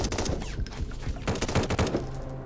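Rifle gunfire in the video game Sunkenland: a rapid series of sharp shots in irregular bursts, fairly close, with no talk.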